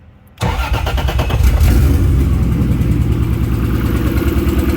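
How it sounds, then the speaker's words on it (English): A Toyota JZX100 engine cranks briefly and fires into a loud, steady idle at close range, with a spark coil moved between cylinders five and six, and no talking. "Crank her up."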